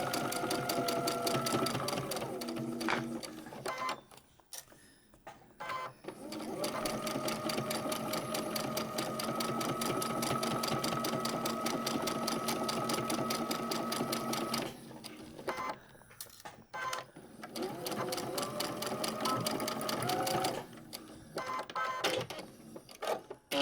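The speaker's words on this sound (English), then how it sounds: "So we're going to go ahead and stitch this. We'll lock our stitches." A sewing machine stitches fabric corner segments in long, rapid, buzzing runs, stopping briefly for short pauses between passes and then restarting, close and steady with no speech.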